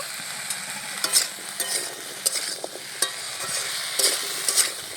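Spices with turmeric and salt fry in a pan, producing a bright continuous sizzle broken by repeated scraping stirs and small clatters, close and fairly loud with no talking.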